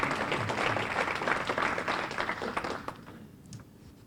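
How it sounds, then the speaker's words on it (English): A crowd at a mayor's State of the Village address gives a round of applause. The clapping is full and lively, then thins and fades over the last second or so. "That should get a huge round of applause."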